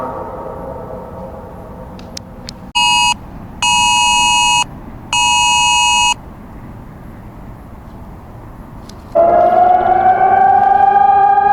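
Electronic beeps sound in three long bursts over low background noise, then a loud wailing air raid siren starts up in Kharkiv, Ukraine, and holds steady to the end.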